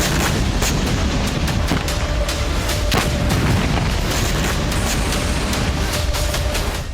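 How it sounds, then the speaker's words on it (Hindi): Kamikaze drone blast inside a Russian hangar holding tanks and armored vehicles: a loud, continuous roaring rumble peppered with repeated sharp cracks and booms, with no pause for the full seven seconds. "ड्रोन से जबरदस्त धमाका हुआ और रूस के हैंगर में तबाही मच गई।"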